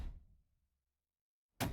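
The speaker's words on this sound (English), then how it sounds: "there was a loud knock at the door" A heavy knock lands at a door in the visual novel Chaos;Child, a single loud, close thud breaking a stretch of near silence after a fading low rumble.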